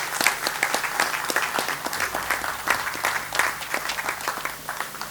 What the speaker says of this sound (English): Another round of applause for the CEO of NIRSAL PLC.